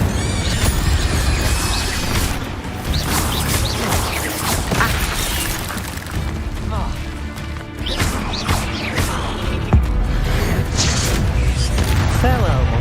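Heavy spell-combat effects burst and crash repeatedly as the Incendio fire spell is cast in Hogwarts Legacy, loud booming impacts and whooshing blasts overlapping across a chaotic fight.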